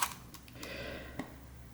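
A Kiev 4a rangefinder camera fires its shutter at top speed, giving a few crisp, close mechanical clicks and a brief whirring rattle in a quiet room.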